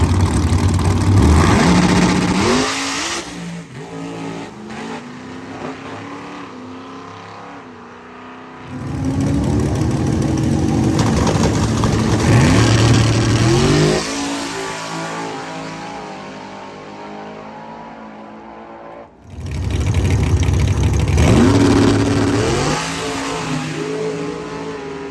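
Drag car Moonshine launching on 14 pounds of boost at 4,500 RPM, three loud passes of engine roaring and revving up, each dropping off before the next hit, close and harsh.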